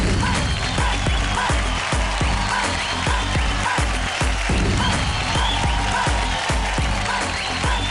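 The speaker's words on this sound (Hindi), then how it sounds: "इनको हाथ हिला के और तालियां बजा के इनको विदा करें।" Studio audience on a television quiz show claps to send off two contestants, a loud, dense and continuous roar of applause close by, with no talk over it.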